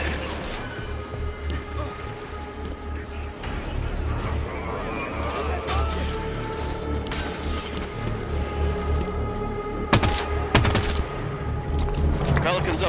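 Dense, continuous gunfire in Halo 5: Guardians during a battle in the Evacuation mission, a steady barrage of shots and impacts running throughout, with a couple of sharper loud bursts near the end.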